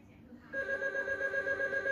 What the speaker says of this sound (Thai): สายเข้าลูกรับโทรศัพท์ด้วย